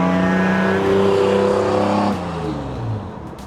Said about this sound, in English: Here she comes. The Bronco 2, the 1984.